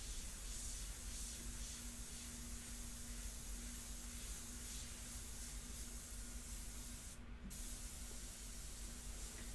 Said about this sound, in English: Let the airbrush do the work for you.